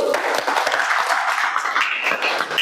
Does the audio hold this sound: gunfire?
no